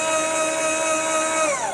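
Electric motor of a Harmar AL 500 HD heavy-duty wheelchair lift runs with a steady high whine and hum, close and loud, dropping in pitch as it winds down at the end.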